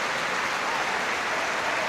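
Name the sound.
football stadium crowd applauding for Hillsborough disaster victims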